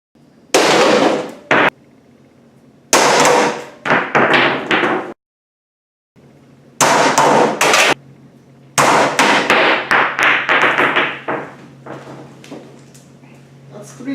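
A hammer strikes window glass covered in safety film in a series of loud, sharp impacts. The blows come in bursts with short silent gaps between them, and voices can be heard faintly in the background.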